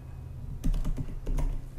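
Typing on a computer keyboard while entering a request URL in a Postman client: a short quick run of close, crisp key clicks in an uneven rhythm, with no voice over it.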